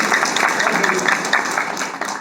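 A seated audience at a motivational session for contract workers claps loudly and continuously, dense overlapping hand claps filling the room for a couple of seconds.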